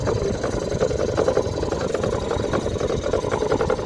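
A fishing boat's engine runs at sea during net hauling, a steady mid-pitched idling throb with a rough vibrating texture, continuous and fairly loud throughout with no voices.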